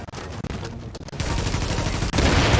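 Video game gunfire in The Division rattles out in dense bursts of rapid shots, thickening into a louder, continuous volley over the final second and a half.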